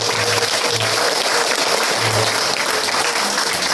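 A congregation applauds a newlywed couple just back from their honeymoon, steady dense clapping filling the room for nearly four seconds, loud and even with a low hum underneath.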